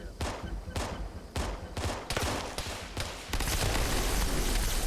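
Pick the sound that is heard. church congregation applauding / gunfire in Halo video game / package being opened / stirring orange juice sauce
gunfire in Halo video game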